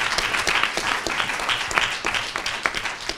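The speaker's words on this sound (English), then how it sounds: "I think we need another round of applause." Audience at a student government executive candidate forum applauding, a dense burst of many hands clapping close and steady throughout.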